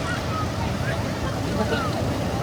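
Steady rushing surf washes in continuously at Shivrajpur Beach near Dwarka, Gujarat, a broad wind-like roar of water with faint distant voices mixed in.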